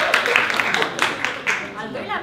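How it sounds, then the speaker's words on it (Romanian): Audience applause for a jury member at a talk event in a pub, a dense wash of clapping mixed with cheering voices and the presenter's speech. "Vă rog să-l aplaudați pe Claudiu Negruțu Sibeche."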